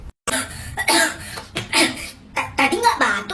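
A child coughs several times in short bursts, close and fairly loud, with brief pauses between the coughs.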